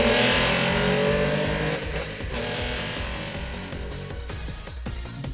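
A Ferrari accelerates hard and pulls away, its engine roaring loud and steady before gradually fading as it drives off, with a few sharp clatters near the end.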